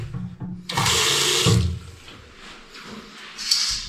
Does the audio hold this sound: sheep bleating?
no